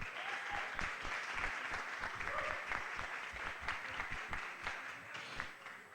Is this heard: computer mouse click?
no